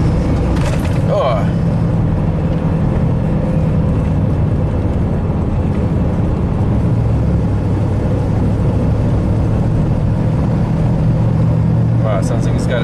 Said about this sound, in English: sounds like it's got a bad wheel bearing or a drive shaft problem or something